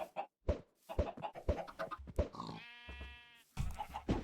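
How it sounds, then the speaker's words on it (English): Minecraft chickens clucking and bleating in a game world, a string of short, fairly close animal calls with one drawn-out tonal cry in the middle, no talking. "there are plenty of chickens in here."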